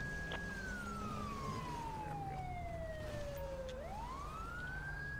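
A single video game police car siren wail sweeps slowly downward, then rises again, fairly faint over a steady engine-like hum, with no talking.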